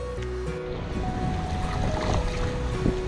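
Kayak moving through a small set of river rapids on the Peace River near Fort St John, BC, with steady rushing water and wind noise close to the mic, with no speech.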